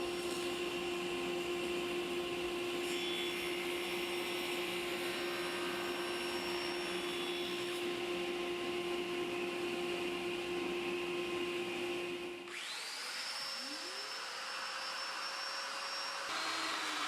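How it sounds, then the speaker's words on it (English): A table saw runs with a steady, loud motor whine and broadband rush as it cuts through a plywood edge in a workshop, then the pitch shifts near the end as the blade is released. "set it on the table saw, get the blade right on the edge of that plywood, and cut off my piece"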